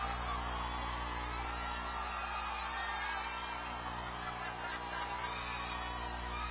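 Steady, dense crowd noise fills a volleyball arena during an NU versus UST match, a continuous roar of cheering and chatter at constant loudness throughout, with no single voice standing out.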